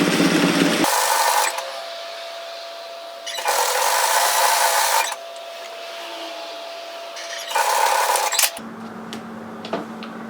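Sewing machine stitching a knit teddy jacket facing, running in three loud bursts of rapid whirring with quieter pauses between as the fabric is positioned, ending with a brief back tack.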